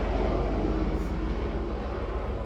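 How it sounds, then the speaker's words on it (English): A helicopter flies overhead outdoors, a loud, steady broadband rumble with a low throbbing drone filling the whole stretch, no speech over it. "Now the helicopter's there."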